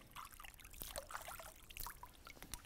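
Water splashes and trickles as it is poured from a bucket to cool a burn in a first aid demonstration, a soft continuous pour close by, without speech.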